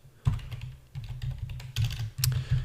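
Keys on a computer keyboard are typed in short, close bursts of clicks with brief pauses between them.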